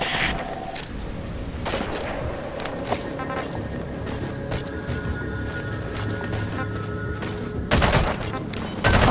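Rapid gunfire bursts in Metal Gear Solid V: The Phantom Pain, with repeated sharp shots and rattling volleys over a busy game soundscape, and louder blasts near the end.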